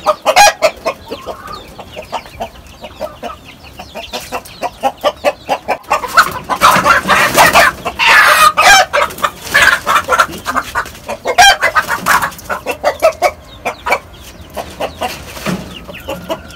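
Chickens and a rooster in a rooftop coop cluck in quick repeated bursts, close and loud, growing busier and more agitated midway with squawks and occasional crowing-like calls.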